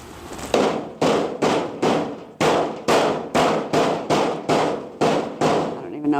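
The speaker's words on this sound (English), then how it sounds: "I'll just hammer this over." A hammer strikes a metal vent piece, bending it over: about twelve sharp, ringing metallic blows in a steady rhythm, loud and close, each decaying quickly.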